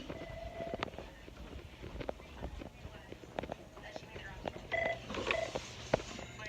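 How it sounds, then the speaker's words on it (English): A telephone rings in a specialty clinic office, its steady electronic tone running through the clip at moderate level, mixed with background room noise and scattered clicks. "Oh, a phone call, so now you get to see answer the phone."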